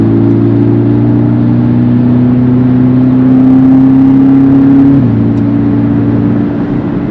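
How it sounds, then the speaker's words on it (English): Exhaust of a 2023 Porsche Cayman with a turbocharged four-cylinder, heard from inside while accelerating: a loud, steady droning engine note rising slowly in pitch, then dropping sharply at a gear change and carrying on. "Great sound coming out of the exhaust."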